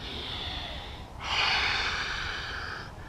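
Deep, slow breathing during a bedtime yoga stretch: a soft inhale, then a longer, louder breathy exhale close to the microphone, with no talking.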